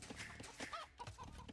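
A game caster's voice imitates a chicken with a short run of clucking, squawking calls over about a second and a half, close and fairly quiet, with no other talk.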